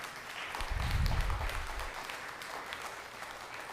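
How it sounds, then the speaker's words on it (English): An audience at a city Board of Aldermen meeting breaks into a burst of clapping that swells and then tapers off, with no talk over it. "I'm respectfully going to ask that you refrain from clapping"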